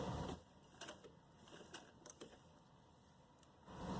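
A domestic sewing machine stitches lace onto a kurti neckline in short, faint bursts of quick mechanical clatter, starting and stopping in a quiet room.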